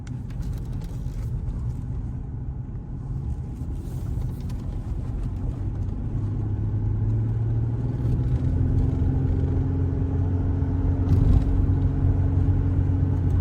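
A steady low engine rumble and road noise heard from inside a moving 2011 Ford Ranger XLT pickup truck, gradually growing a bit louder, with no talking.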